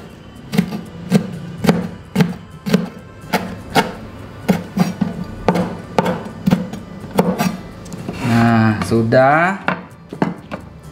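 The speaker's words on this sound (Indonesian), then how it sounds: "Cabenya kita iris tipis-tipis." A knife thinly slices chili peppers on a cutting board in a steady series of sharp, evenly spaced taps, about two per second, before a voice briefly speaks near the end.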